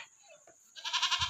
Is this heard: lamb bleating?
yes